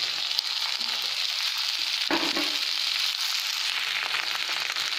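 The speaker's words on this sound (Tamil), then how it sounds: "ஒரு வானலில் எண்ணெய் ஊற்றியாச்சு நல்லெண்ணெய் ஊற்றியாச்சு எண்ணெய் காஞ்சிருச்சு இப்போ என்ன பண்ணுவோம் இந்த வெண்டைக்காயெல்லாம் போட்டுடலாம்" Okra frying in hot sesame oil in a pan, a continuous close sizzle with a sudden crackling burst partway through as more pieces hit the oil, then steady hissing again, no voices.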